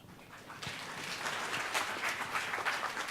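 A forum audience breaks into applause that starts thin and swells into steady, dense clapping from many hands. The clapping carries on to the end with no talk over it.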